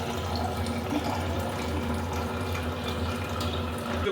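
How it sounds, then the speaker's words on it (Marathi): Water being poured into mutton cooking in a pot, a quiet continuous splashing and trickling with no voices over it. "अर्धा तांबे आपण टाकूया पाणी."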